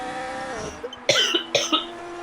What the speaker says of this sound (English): Sorry, I'm just coughing a lot.